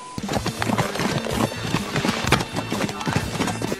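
Horse hooves clip-clop in a steady rhythm through a busy meme compilation, with music and voices mixed in around the footfalls.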